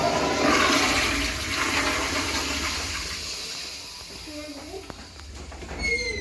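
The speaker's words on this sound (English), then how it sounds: "Give it a flush." A Standard toilet in an old college residence hall restroom flushes with a loud rushing surge of water that gradually subsides into gurgling and refill trickles.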